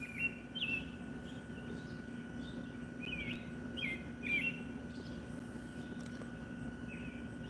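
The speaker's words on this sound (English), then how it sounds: "Do you hear those birds singing?" Birds singing outdoors in the morning, several clear chirping phrases repeating at moderate distance over a steady low background hum, with no talking.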